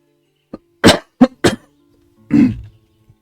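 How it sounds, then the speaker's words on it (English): A series of sharp coughs close by: a small one, then three quick harsh coughs, and a longer rougher cough after a pause, with silence between. "I'm terribly sorry for this cough."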